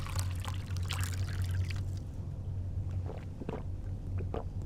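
Water poured and gulped down in the video game Fahrenheit, a splashy trickle followed by a few soft swallowing sounds over a steady low hum.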